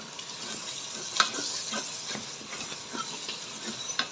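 Lentils frying dry in a rice cooker pot with bay leaves for khichuri, a steady close sizzle with scraping stirs and a couple of sharp spatula clicks.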